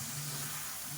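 Eggplant and drumstick pieces sauté in a pan for a village-style green turkey berry sambar, giving a steady close hiss with a low hum underneath.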